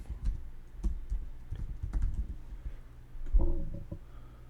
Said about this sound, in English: I'll just type that in